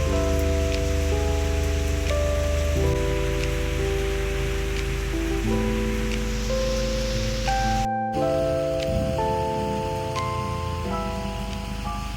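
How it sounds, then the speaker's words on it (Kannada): Heavy monsoon rain pours down steadily on a 25-year-old Honda City VTEC as a loud, continuous hiss and patter, with sustained musical tones playing over it throughout. "ಮಳೆ ಮಾತ್ರ ಹೆವಿ ಬರ್ತಿದೆ"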